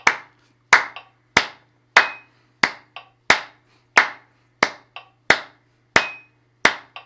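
Sharp hand claps fall in an even triplet pattern against a steady metronome, with quieter ticks between the louder claps over about seven seconds.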